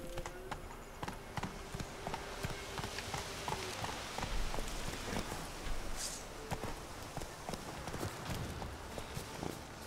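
A horse gallops in The Witcher 3 video game, rapid regular hoof beats running steadily throughout, moderately loud, over a hissing rain-like ambience and scattered game effects.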